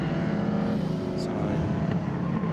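A historic Ford Escort race car, number 63, passing at a circuit, with a steady engine drone under a commentator's voice.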